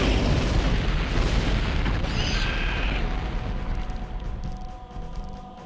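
Scorpion Launcher missiles blow up in the first-person shooter Turok 2, a dense, loud run of booming blasts that fills the clip and thins slightly toward the end.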